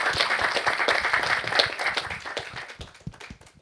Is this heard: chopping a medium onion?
no